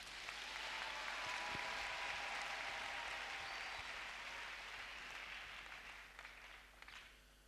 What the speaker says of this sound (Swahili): Tumpigie makofi Bwana Yesu